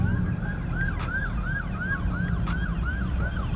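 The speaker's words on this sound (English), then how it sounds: "it's a tow truck. They got the same sirens as the police." A tow truck siren wails in fast repeating yelps while driving through Chicago at night, with a rhythmic flashing-light ticking layered over the low hum of the car's engine, moderately near and without talking.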